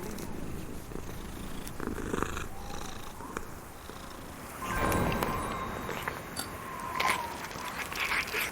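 In the Brink of Consciousness video game, a cat purrs continuously at close range, a soft rumbling steady purr with occasional crunching and scraping noises mixed in, and no voices.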